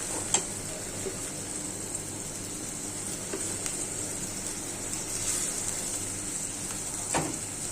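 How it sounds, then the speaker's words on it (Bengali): Spice paste with garlic, onion, turmeric, chili and green chilies sautés in a pan, giving a steady faint sizzle with occasional light clicks of stirring, no talking. "মশলাটা কষানো"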